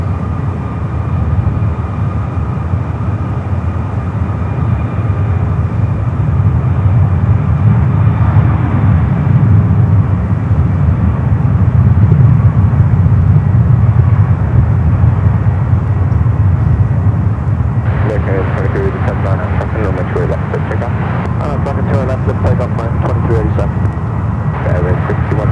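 United heavy jet departing San Francisco International toward runways 28, a loud continuous low engine rumble dominating throughout, with a voice briefly talking near the end.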